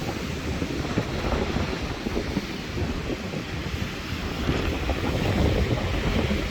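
Strong winter wind roars across a seaside promenade during a storm, buffeting the microphone over continuous crashing surf, loud and unbroken throughout.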